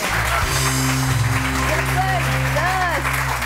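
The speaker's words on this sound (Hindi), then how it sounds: "मेरी ऑडियंस के लिए एक जबरदस्त तालियां होनी चाहिए।" A studio audience claps continuously as a steady wash of applause, loud and dense, under a sustained musical tone.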